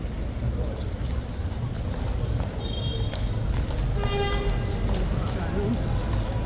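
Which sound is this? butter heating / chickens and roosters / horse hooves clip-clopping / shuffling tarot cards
horse hooves clip-clopping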